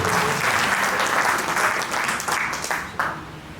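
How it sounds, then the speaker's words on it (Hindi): Audience applause at a political gathering, a dense, continuous clapping from a large crowd that holds steady and then thins out toward the end. "एक बार जोरदार तालियां अपने"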